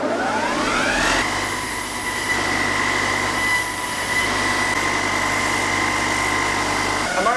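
A saw's rough edges are taken down with 120-grit abrasive on a powered sanding machine: a loud, close, steady whine rises quickly at the start and then holds under a constant grinding rush.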